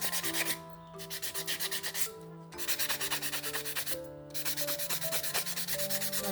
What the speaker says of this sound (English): I'm gonna use this buffing block to buff my nails